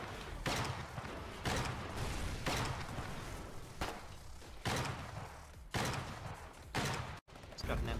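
Heavy gunfire crashes in repeated loud bursts during a Foxhole battle, each volley arriving as a broad thumping blast with short gaps between, while players talk over the fighting.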